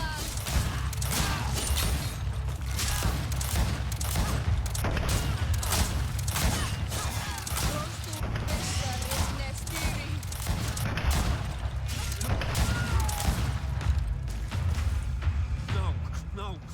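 Gunfire in the Greedfall video game: a dense, rapid fusillade of shots and mechanical clatter running continuously for over fifteen seconds, loud and close, with heavy low booms under the crackling bursts.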